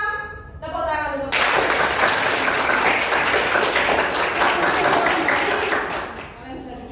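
Students in a classroom applaud, a thick burst of clapping following a brief voice and fading as speech returns at the end.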